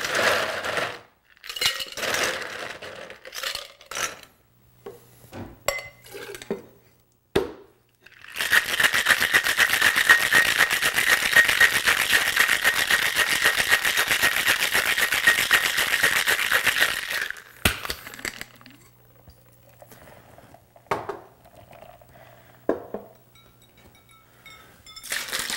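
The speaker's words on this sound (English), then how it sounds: "Add our ice." Ice clinks into a shaker holding an East India House cocktail with pineapple syrup and Angostura bitters, followed by roughly nine seconds of loud, steady rattling as it is shaken, then a few scattered clinks afterward.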